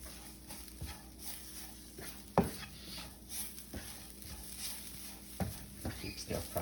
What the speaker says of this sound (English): Keep stir frying, getting it nicely mixed.